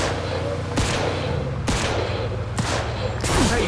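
Gunfire in Mafia II: Definitive Edition, a loud, close burst of shots in irregular bursts, about four heavy blasts over a dense, continuous roar of game action.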